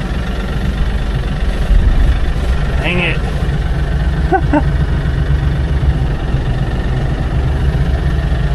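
A farm tractor idles with a steady low engine rumble, its motor struggling to lift a load of corn containers; a man mutters briefly over the constant drone.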